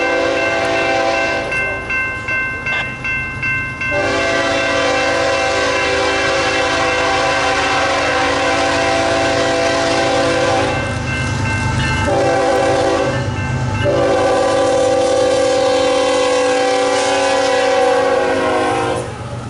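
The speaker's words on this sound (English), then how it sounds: "this Beartable train coming out of Memphis bound for an unknown location." An empty intermodal freight train rolls past near Memphis, its train horn sounding in long sustained chords over a steady rumble and rattle of passing cars, loud and close throughout.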